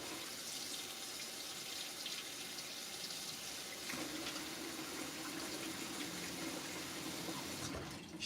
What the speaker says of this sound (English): And then you just fill it up with some water.